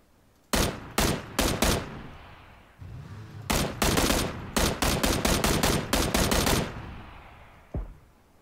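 Video game gunfire in rapid bursts: two clusters of loud, close automatic shots with a short pause between, then one faint final shot.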